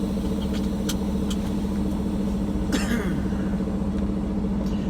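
A semi truck's Cummins X15 diesel engine runs at a steady idle, a continuous low rumble with a few faint clicks and knocks over it.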